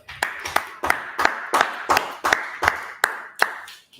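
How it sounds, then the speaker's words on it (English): Slow, evenly spaced claps, about a dozen at a steady beat, sharp and fairly close, from an audience at a gathering of the Israelite School of Universal and Practical Knowledge. "go ahead and clap it up"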